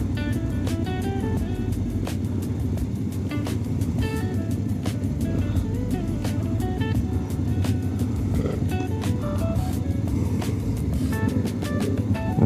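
Cars and motorcycles rolling past at a motorcycle rally, a continuous loud engine drone with rising and falling revs and a busy crowd-and-traffic background.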